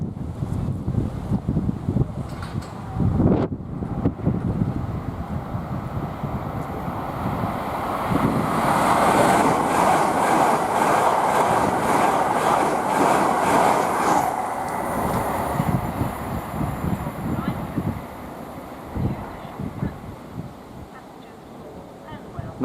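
A Bristol Temple Meads to London Paddington passenger train rushes past at West Ealing on the Great Western Main Line, its rumble building to a loud roar with rhythmic wheel beats, then fading, with wind buffeting the microphone.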